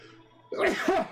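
A single sneeze during a tabletop Dungeons & Dragons session, a sudden loud burst with a short second gasp-like phase, close to the microphone, cutting in after quiet background.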